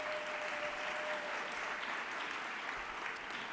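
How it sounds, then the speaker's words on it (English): Steady applause from the audience at a child health plenary, an even, continuous patter of clapping with a faint tone briefly audible early on. "If you guys could give her a quick round of applause as well."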